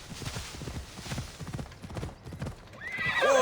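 A horse in the video game Assassin's Creed Odyssey gives steady clip-clop hoofbeats throughout, with a neigh or whinny rising near the end, fairly close and loud.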